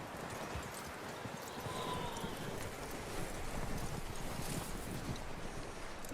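A horse's hooves clip-clop steadily in a western video game, a dense continuous patter of hoofbeats mixed with a windy outdoor background, moderately close and without talk.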